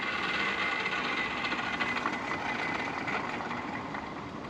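A Can-Am DS90 ATV one-way clutch spins with a steady, fairly quiet whirring and rattling drone, heard close up with no voices.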